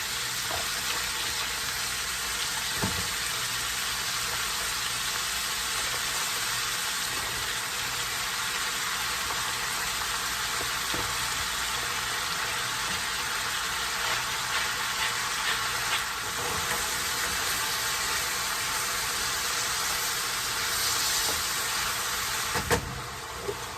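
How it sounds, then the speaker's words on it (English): Onions and mushrooms sizzle in a pan, a steady, dense hiss of frying that runs unbroken for the whole stretch, with a few faint knocks and no talking. "our onions and mushrooms are sweated out really good"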